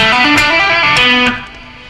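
A quick rock scale run on electric guitar, hammer-ons and pull-offs flowing in a brief, bright phrase that drops in level near the end.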